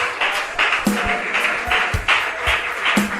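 A church congregation applauds during an evening sermon, dense clapping throughout with a few louder rhythmic hand strikes and a faint tonal ring behind it, no voices on top.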